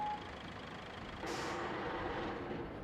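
Heavy truck engine in the RoadCraft video game, a steady low rumble that jumps into a louder, brighter hiss partway through, like an air brake release, then continues idling at moderate level with no talk.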